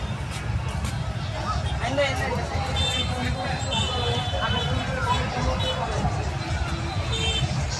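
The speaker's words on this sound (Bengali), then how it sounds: "দেখেন কত মানুষ" A large crowd at a boat race, a steady dense babble of many voices outdoors with no single sound standing out.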